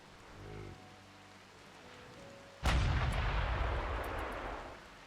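An artillery shell fires in the Rimworld video game, a sudden loud boom partway through that rolls into a long rumbling decay, after a quieter stretch of faint game tones.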